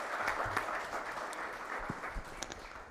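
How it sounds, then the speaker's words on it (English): Moderate audience applause after a business conference panel session, a continuous wash of clapping heard from a little distance. "let me invite, ladies and gentlemen, you all to give them a round of applause"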